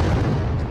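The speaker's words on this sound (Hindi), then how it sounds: "मैं यहाँ पे तोप चलाता हूँ" Old cannon fired at Golconda fort in Hyderabad, a short dense low boom heard close and loud with a rumbling body and no voices.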